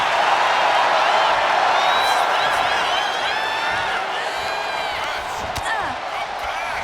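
A loud arena crowd cheers and roars with whistles and whoops in the WWE 2K25 wrestling video game, steady and dense throughout with occasional thuds.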